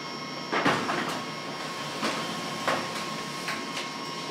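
A Canon MF221d laser printer runs a test page, giving off a steady mechanical whir with a few sharp clunks and clicks spaced at intervals as paper feeds through, heard close and alone.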